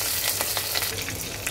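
Green chilies sizzle and crackle in a little hot oil with a bay leaf and nigella seeds, tempering for a hilsa fish curry with potato and eggplant. Steady close frying hiss with scattered pops and stirring scrapes, no talk.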